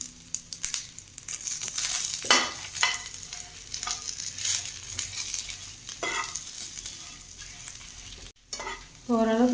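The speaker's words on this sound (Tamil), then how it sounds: "வதக்கி வச்சுருந்தோம்ல சுண்டைக்காய், அதையும் சேர்த்துக்கலாம். நல்லா வதக்கிக்கலாம்" Turkey berries being sautéed in a pan for a chutney: continuous sizzling with frequent spatula scrapes and stirring, loud and close, plus a brief tonal squeak at the end.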